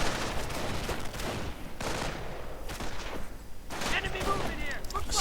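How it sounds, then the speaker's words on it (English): Gunfire crackles in a World War II real-time strategy battle, with repeated bursts of shots and distant rattling volleys spread through the scene over game ambience. "Sniper fire."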